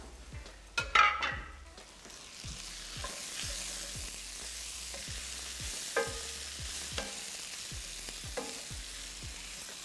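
Chorizo frying in a pan over medium-high heat, a soft continuous sizzle with a clatter of the pan early on and regular light taps and scrapes of a utensil stirring.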